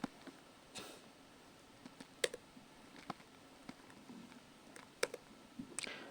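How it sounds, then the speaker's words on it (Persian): Password being typed on a computer keyboard during a Windows Server 2022 Core installation, heard as scattered quiet clicks and taps at an uneven pace over a faint background, with no talking. "بعد از او برش یک پسورد تایپ میکنیم."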